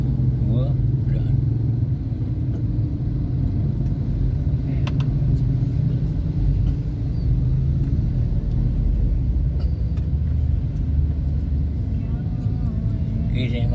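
Car traffic crawling in a jam in Bandar Lampung, a steady low engine rumble from idling and slow-moving vehicles heard continuously from inside a vehicle.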